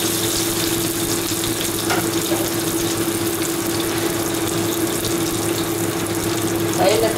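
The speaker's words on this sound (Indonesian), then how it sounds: "saya letak air sedikit." Water splashed into a hot pan of eggplant cooking in oyster sauce sets off a steady, loud, close sizzle with bubbling that holds evenly throughout.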